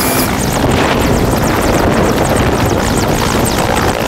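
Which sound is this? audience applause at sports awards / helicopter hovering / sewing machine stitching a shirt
helicopter hovering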